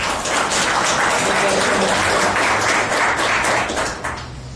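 An audience at an ISSSTE forum applauds to welcome a speaker, a dense and steady wash of clapping that fills the room and then tapers off near the end.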